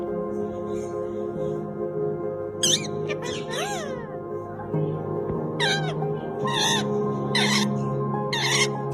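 Mother parrot vocalizing to her chicks, a series of short squawky calls and chirps over a steady low hum, close and moderately loud.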